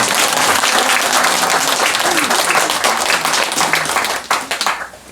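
Loud, dense applause from a congregation at an all-night Amitabha celebration service at Yongdusa Buddhist temple, sustained and close, then thinning into scattered claps before it stops.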